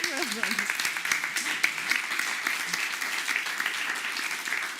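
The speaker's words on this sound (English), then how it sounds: "Let's give him a round of applause for now." A conference audience applauds steadily throughout, a dense wash of many hands clapping at a fairly even level, with a brief cheer near the start.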